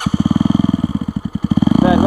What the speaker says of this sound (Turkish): Bir aç bakayım egzozu.